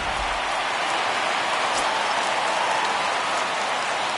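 Home crowd in MLB The Show 19 roaring after a home run, a dense, steady wash of cheering and applause that holds at an even level for the whole stretch, with no commentary over it.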